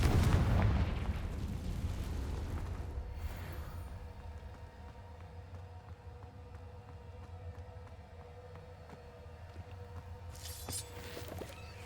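A Confringo fire spell explodes in the Hogwarts Legacy video game, a loud deep boom that rumbles and fades over several seconds, followed by a quieter crackling tail and a brief burst near the end.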